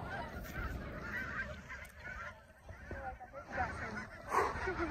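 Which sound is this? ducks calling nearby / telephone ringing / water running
ducks calling nearby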